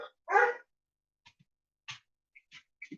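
A small dog gives one clear, close bark followed by a few faint, scattered yips and whimpers amid quiet pauses, with no talk over it.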